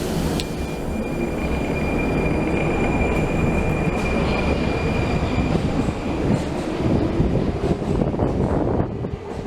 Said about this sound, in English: In Naples, we rode the Metro Line 1 from Garibaldi to Museo and the Line 2 from Piazza Cavour back to Garibaldi.